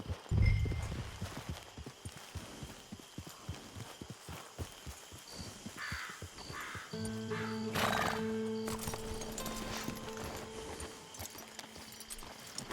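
A horse in the video game Red Dead Redemption 2 whinnies and snorts while its hooves clip-clop steadily along a trail, up close, with a long neigh standing out amid the stepping.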